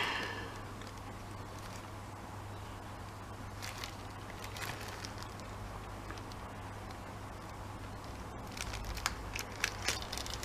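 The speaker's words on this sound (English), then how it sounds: "It's always impressive when you can't actually open a plastic bag." A small plastic bag of tiny beads is fumbled with and pulled open, giving faint close crinkles and crackles over a steady low hum, brief louder rustles near the end.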